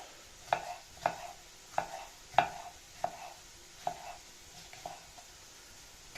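A knife cuts through a bell pepper on a board in a home kitchen, giving about eight sharp, evenly spaced chops close by with no talk.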